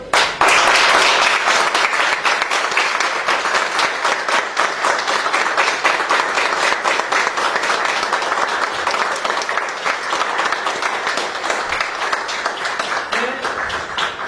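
Loud, sustained applause from a large audience at a journalists' federation gathering in Balıkesir, dense clapping filling the whole stretch without a break and fading only slightly toward the end.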